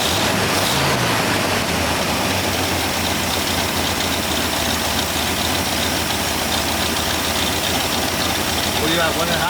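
A 1964 Ford Fairlane engine idles steadily, with a dense, even rumble and some knocking, and there is no break for the whole stretch.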